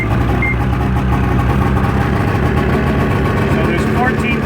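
A 2003 Ski-Doo MXZ 600cc snowmobile, a James Bond Special Edition, idles steadily and loudly up close with a constant low mechanical drone and vibration, while a voice talks over it.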